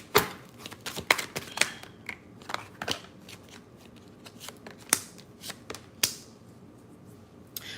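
Tarot cards being shuffled and pulled from the deck, with a series of crisp, irregular flicks and riffling snaps close by, some sharper than others, spread across the whole stretch with no talking.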